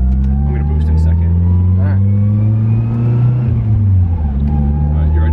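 A drift car's engine revs under boost at an event, a loud, close, sustained roar with rising and falling pitch that dips sharply partway through, while people talk nearby.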